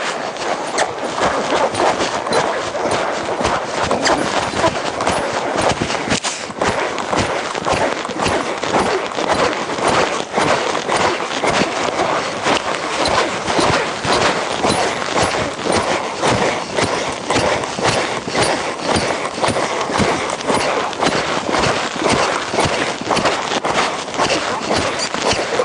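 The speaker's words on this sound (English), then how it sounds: "But he's still a good horse." Hooves of a ridden horse in an advanced riding session clip-clop in a steady, unbroken rhythm for the whole stretch. The close, even beats sit over constant broadband noise.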